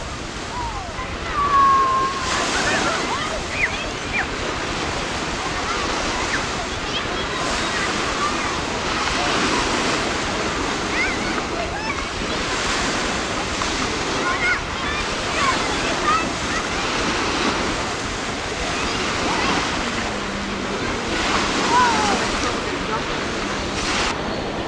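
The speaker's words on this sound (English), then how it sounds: "They're going to learn how to jump the waves." Ocean waves break on a beach in repeated rushing surges, a steady wash of surf close by with a faint wind and occasional distant voices.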